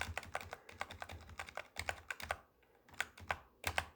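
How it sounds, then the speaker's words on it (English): Keys on a computer keyboard are tapped during stop-motion video editing in DaVinci Resolve, a quick irregular run of close, crisp clicks in small bursts with brief pauses between them. "So we're just going to press Control B, splice that clip there"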